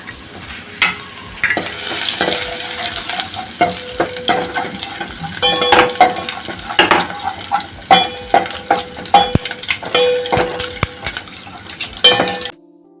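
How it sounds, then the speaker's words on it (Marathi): Garlic and mustard seeds sizzle steadily in hot oil for a Malvani dahi kadhi tempering, while a metal spoon clanks and scrapes against the pan in sharp, irregular knocks. No one speaks. "आता आपण हे लसूण घेतली ती पण टाकू आणि तेलामध्ये भाजायला देऊया"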